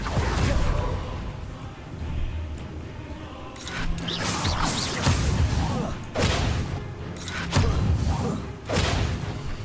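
Confringo blasting spell in the video game Hogwarts Legacy: a continuous busy mix of thuds, whooshes and crashing impacts, with several sharp bursts standing out over the dense game noise.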